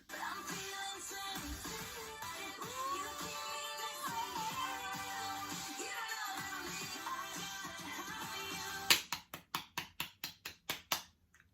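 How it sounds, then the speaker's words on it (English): Series of distinct hand claps, about ten sharp, evenly spaced strikes near the mic, coming right after a stretch of quiet song playback. "Clapping. I'm clapping."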